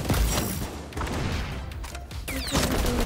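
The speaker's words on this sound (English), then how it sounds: "Oh, they're shooting." Dense automatic gunfire and explosions from the first-person shooter XDefiant fill a loud, continuous stretch without pause.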